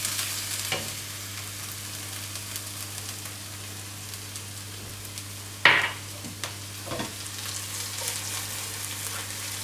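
Garlic, ginger and chili flakes frying in oil for mapo tofu, a constant close sizzle with occasional scrapes of stirring and one sharper clatter midway.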